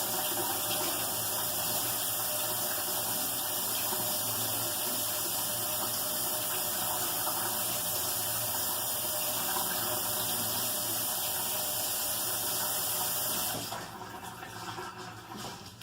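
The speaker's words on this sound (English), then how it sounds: "I'm going to have to wash it again." Steady, loud rush of tap water running into a kitchen sink while a squirrel carcass is washed, continuous and close for most of the time before abruptly dropping off near the end.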